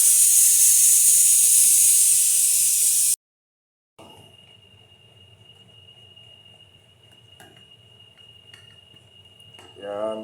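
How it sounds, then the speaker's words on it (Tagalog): A pressure cooker holding beef curry lets off a loud, bright burst of steam for about three seconds, then cuts to silence. Quieter kitchen clatter and a faint whistling tone follow, ending in a short rising hiss. "pressure cooker, i-release muna natin yung pressure para hindi tayo masabugan"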